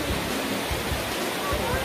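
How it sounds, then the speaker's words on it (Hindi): Neer Garh waterfall in Rishikesh, a steady, dense roar of falling water that fills the whole moment with unbroken hiss. "ये नीर झरना आप देख सकते हैं पीछे"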